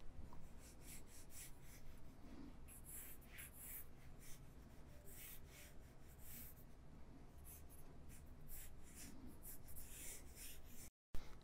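Pencil sketching a sedan's front end on paper, continuous close scratchy strokes with rhythmic back-and-forth shading, steady and moderately loud throughout, alone with no talk.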